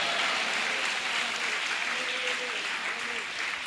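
A congregation claps steadily at the IPC Andhra Pradesh annual church convention, a moderate wash of applause from a large crowd with a voice faintly audible underneath.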